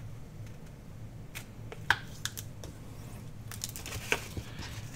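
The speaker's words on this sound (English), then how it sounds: "Fold that over. Fold this one over." Patterned 12x12 paper is folded for an accordion journal, with soft creasing swishes and a few sharp crisp snaps up close over a low background hum.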